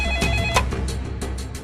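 A telephone rings in a police office, with a series of repeated electronic trills close by and no talking.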